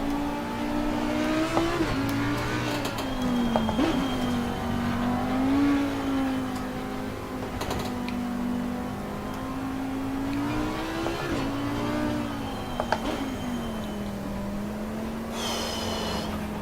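Audi R8 Evo 2 race car engine in a racing sim at Silverstone, a continuous close drone whose pitch rises and falls with throttle and gear changes, with occasional sharp downshift blips.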